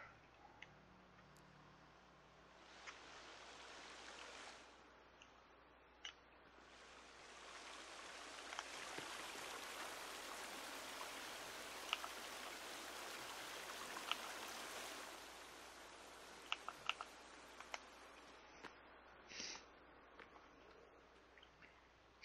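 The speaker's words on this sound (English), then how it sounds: "there's water here, so it's really loud, so you won't hear me" Water flows inside a cave in the video game The Forest, a broad steady rushing hiss that swells partway through and holds, with a few small ticks and clicks over it and no speech.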